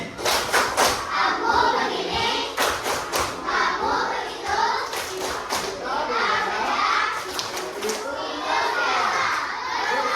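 A classroom of children performs the tepuk toleransi clapping chant, bursts of sharp hand claps in rhythmic clusters between shouted chanting voices, loud and close, with thumps and general crowd noise throughout.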